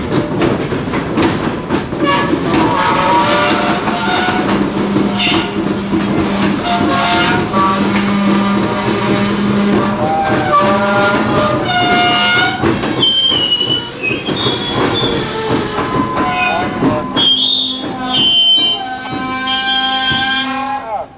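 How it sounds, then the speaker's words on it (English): Freight train locomotive switching cars on the Florida Central, ending with a loud cut of cars; dense, loud rail noise with steady rumble, metallic squeals and sharp high-pitched screeches later on, no talk. "the empty they just pulled out, and makes a cut. A very loud cut."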